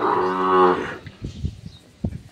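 A cow lets out a loud, close moo lasting about a second, followed by soft shuffling and thumping sounds, at a cattle farm.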